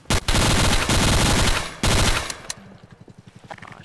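Sustained automatic gunfire in Garry's Mod on a DarkRP-style server, two long loud bursts broken by a brief pause, then trailing off into quieter clicks and scattered rapid pops.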